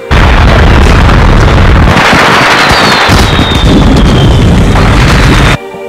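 Fireworks burst in a dense, loud barrage of overlapping bangs and crackles that roll on for about five seconds, then cut off abruptly.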